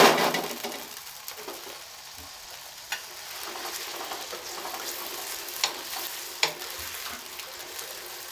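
Small chicken pieces frying in a pan, a steady soft sizzle with occasional louder pops and crackles, alone without talk.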